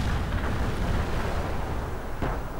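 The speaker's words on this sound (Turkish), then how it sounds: "onlar da böyle artık top atışına başladılar" Artillery fire in the World in Conflict strategy game, heard as continuous dense rumbling booms and blasts that fill the whole stretch, loud and sustained with a sharper burst near the end.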